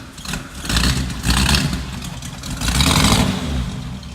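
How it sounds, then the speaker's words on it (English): A stone-cold 1939 Pontiac Eight engine runs close by with a low, rough rumble that swells in a few uneven surges and then settles toward idle. "I always like to capture a video when the engine is stone cold."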